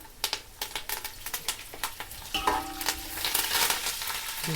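Dried red chillies fry in hot oil in a pan for a peanut-powder spice mix. A spoon stirs them in quick tapping strokes, then a louder sizzle swells as more goes into the pan. No one talks.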